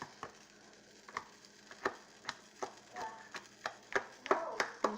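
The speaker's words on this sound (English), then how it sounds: "I grabbed a spoon and I'm gonna go ahead and I'm gonna mush it." A spoon mashes and crushes ingredients in a pot for instant broth, giving irregular sharp clinks and scraping knocks against the pot at close range, with brief squishy crunches between them and no talking.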